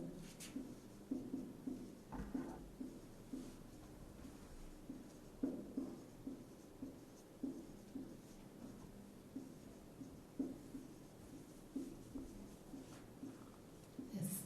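Chalk or marker writing out a general 3×3 square matrix on a board, a steady series of short scratchy strokes repeating through the whole stretch, close and moderately loud with no one talking.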